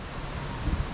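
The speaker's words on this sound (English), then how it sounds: "It's a little windy, you can probably hear that" Wind blowing outdoors on a fine day, rumbling in gusts against the microphone as a low, steady rush with a brief stronger buffet near the end.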